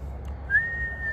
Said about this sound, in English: this is when we'll hear the whistling